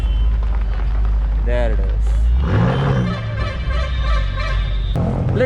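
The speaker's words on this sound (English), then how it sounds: "The R8 is making its way back. And then we have the most beautiful BMW M8 Coupe. That's also going to the back." An Audi R8 and a BMW M8 Coupe pull away at a supercar club gathering in Pune, engines rumbling low and close, building to a louder rising note midway while people talk over it.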